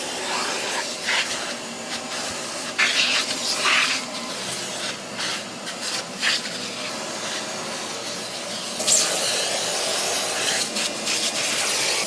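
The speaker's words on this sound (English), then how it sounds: "We're going to try to clean up the leather with this Cadillac leather cleaner." Leather cleaner is sprayed onto BMW F30 sport seats in repeated short hissing bursts, close and fairly loud, with rubbing and wiping between the sprays.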